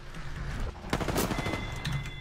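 Automatic weapon fire in Apex Legends, a rapid burst of close, loud shots layered over game ambience with no talking.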